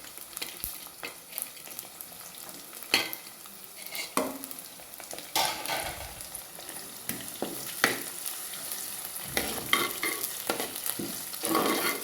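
Green chili, crushed ginger and garlic fry in a pan for Kerala fish curry, with an uneven crackling sizzle and repeated scraping and stirring sounds up close.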